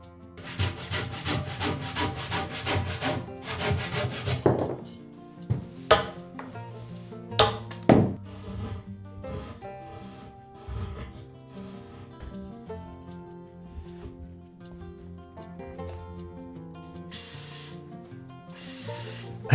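A hand plane shaves a 55mm-thick high-quality hardwood cedar kamoi with three grooves, giving a series of rasping, scraping strokes up close, fast and dense at first, then sparser sharp passes and knocks separated by quiet gaps.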